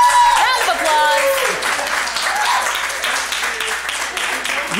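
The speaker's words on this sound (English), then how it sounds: "Round of applause." An audience at a live indoor concert claps in a steady, dense wash of applause, with a voice speaking over the clapping throughout.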